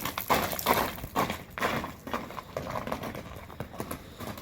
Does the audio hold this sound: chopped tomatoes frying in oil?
no